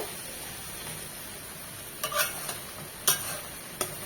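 Fresh green okra is stir-fried in a pan, with a steady sizzle and several sharp scraping clicks of the spatula stirring near the end.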